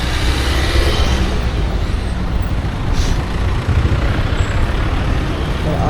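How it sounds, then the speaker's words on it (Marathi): Dense roadside traffic near Ganpatipule, heavy trucks and buses roaring past close by in a continuous loud wash of engine and tyre noise, with a faint hiss of air brakes. "एकदम कचकट ट्रॅफिक आहे."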